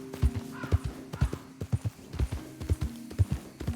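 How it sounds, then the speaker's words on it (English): A horse in Red Dead Redemption 2, agitated by a predator in a swampy area, gives a short whinny while its hooves clip-clop in a steady, fairly close rhythm throughout. "The horse is agitated by a predator."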